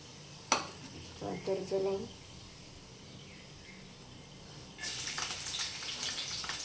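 Cumin seeds drop into hot oil in a home kitchen while making bitter gourd curry. A few light clinks come first, then a steady, fairly loud crackling sizzle.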